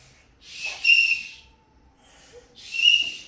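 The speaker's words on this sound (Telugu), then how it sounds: "విజిల్ చేయి" Two short, shrill whistle blasts, close by, at a school Republic Day celebration, separated by a brief pause with soft breathy noise.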